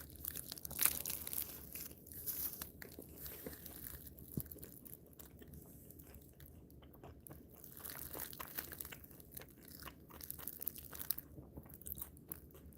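A streamer munches crunchy food close to the microphone, a steady stream of crackling bites and chewing over a dozen seconds, quiet but continuous, with no talking.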